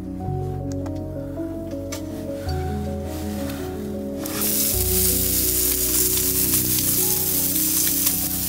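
Bacon cheddar burgers fry at a summer campsite in the snow at 7000 ft, a loud, dense, continuous sizzle close up that swells louder partway through, with no talking.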